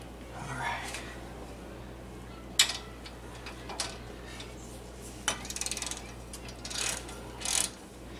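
A ratchet tightens a bolt on a Nissan Rogue control arm, giving short bursts of quick clicking separated by pauses, close and fairly faint.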